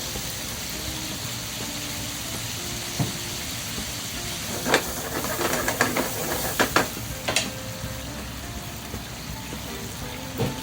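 White wine poured into a hot pan with octopus, a steady hiss and sizzle with a cluster of sharp crackles and spits in the middle.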